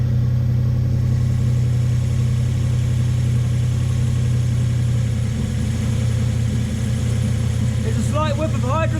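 A car engine idles steadily on its first start of the day, a loud, constant low rumble that holds evenly throughout, slightly rich on fuel after cranking, with a few faint chirps near the end.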